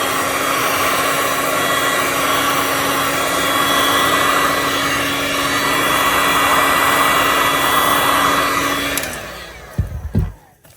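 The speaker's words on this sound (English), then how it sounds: "So I'm going to blow it backward and see if I can fix this." Air blower pushing wet resin back across a beach clock, a steady loud rushing roar that holds for about nine seconds and then cuts off, leaving a few brief knocks and handling noises.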